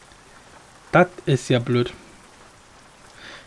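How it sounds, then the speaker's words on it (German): Rain falling in the truck-driving game Euro Truck Simulator 2, a soft steady hiss running through the whole stretch while someone speaks briefly over it. "Ausgerechnet jetzt muss der Regen kommen."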